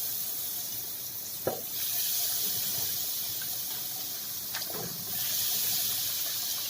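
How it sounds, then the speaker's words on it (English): Flour-coated slices of eggplant deep fry in hot oil, giving a steady bright hiss and sizzle with a couple of sharper crackles and small surges as pieces go in. "We are ready to fry now."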